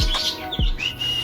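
Newly bought pet birds at home, noticeably different from lovebirds, give two short loud close chirps followed by thinner high tweets, with no talk.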